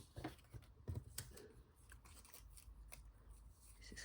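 Scissors snip through paper scraps for a layered fringe banner, giving a run of quiet, close crisp cuts in an irregular rhythm, with no talking.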